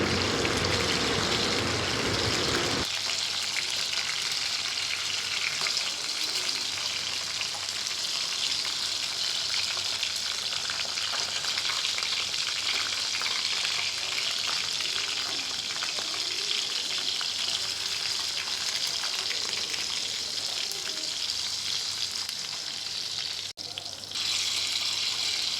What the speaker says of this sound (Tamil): கடாயில் எண்ணெயை ஊற்றி நல்லா சூடானதும் அதில் நல்லா போட்டு ஒரு 5 நிமிஷம் வேக விட்டுருங்க